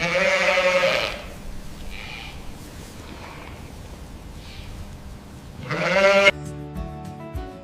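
A Dorset sheep bleats loudly and close by, two drawn-out wavering calls separated by a few seconds of quieter ambient rustle and wind.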